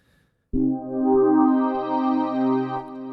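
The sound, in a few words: synthesizer sequence preset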